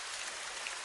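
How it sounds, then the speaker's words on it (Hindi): Rain falling at night, a steady dense hiss of drops heard alone and fairly soft for a brief moment. "बारिश हो रही थी।"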